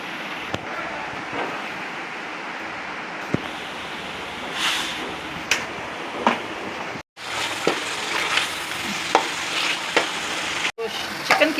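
Chicken fries in ghee with a continuous sizzle, broken by sharp clatters and stirring knocks from cookware, close and fairly loud.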